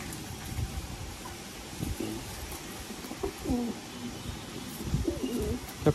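Madrasi Teepler pigeons coo softly and repeatedly in a loft, low rolling calls recurring through the clip over a steady background hiss.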